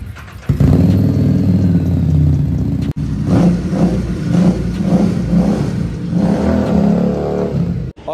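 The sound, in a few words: Kawasaki Z1000 motorcycle engine starting and revving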